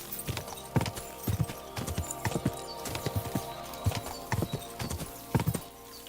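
Galloping horse hooves clip-clop in a video game, a close, rhythmic run of hoofbeats with a brief whinny, with no talk over them.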